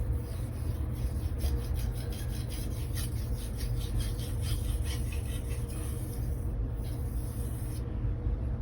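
Aogami super steel kitchen knife sharpened on a whetstone, giving a continuous gritty rasp of repeated strokes that hold a steady rhythm, close and fairly quiet, with no talking.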